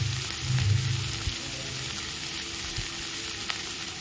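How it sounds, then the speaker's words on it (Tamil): Paniyaram seasoning sautéing in a pan, a continuous soft sizzle with occasional stirring scrapes and small pops, close and moderately quiet, with no talking. "நல்லா வணக்கி இந்த மாதிரி கொஞ்சம் கலர் சேஞ்ச் ஆகிற வரைக்கும் நல்லா வணக்குங்க"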